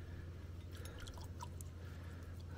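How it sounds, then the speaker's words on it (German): Water trickling and dripping steadily through a hand-pumped manual water filter into a glass, a soft continuous liquid flow with faint drips, close and quiet, no talking. "Schaut mal, wie lange hier das Wasser läuft, ohne dass man es pumpt."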